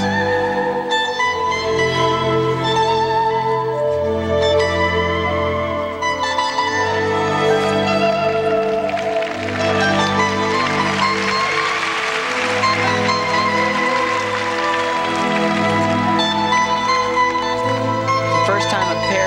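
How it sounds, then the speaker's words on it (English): Figure skating audience at the 1998 Nagano Winter Olympics pairs short program applauding side-by-side spins, sustained clapping blended with arena music over the whole stretch. "Side-by-side spin has gotten applause all night long."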